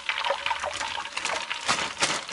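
Frying oil being poured into a pan, a short, steady liquid stream with a bright splashing trickle, close and alone.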